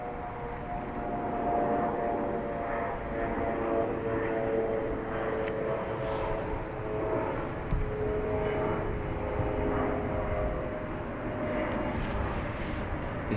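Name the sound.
Embraer E2 jet airliner engines at Dublin Airport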